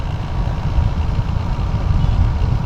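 A motorcycle rolls along at 60 km/h, its engine humming low and steady under constant wind buffeting, loud and unbroken throughout.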